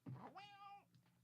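An electric toy cat gives a single close, clear meow, a rising then falling electronic-sounding cry heard alone with brief faint noise after it.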